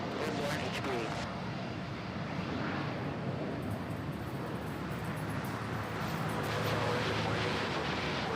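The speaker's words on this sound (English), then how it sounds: "Cathay Pacific A350-900 off to Hong Kong. Nice quiet takeoff." A Cathay Pacific Airbus A350-900 takes off from Manila airport, a steady broadband jet roar that holds level throughout and swells slightly near the end.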